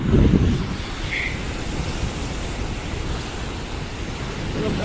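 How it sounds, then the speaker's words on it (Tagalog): Steady roar of strong surf at a beach in Malta with waves washing in continuously, loud and close, with some wind buffeting the microphone. "Lakas ng alon."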